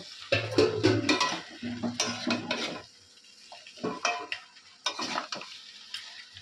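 Mutton curry with potatoes stirred and sautéed in a pan, with a spoon scraping and clattering against the metal in bursts over a soft sizzle, close and fairly loud, pausing briefly between strokes.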